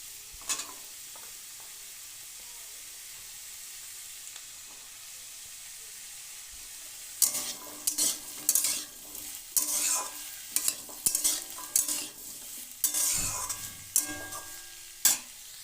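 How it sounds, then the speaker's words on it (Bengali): Carrots frying with bitter gourd and potato in a pan, starting as a faint quiet sizzle, then louder stirring scrapes and bursts of crackling sizzle in irregular clusters. "গাজর দিয়ে আর 2 মিনিট ভেজে নেব।"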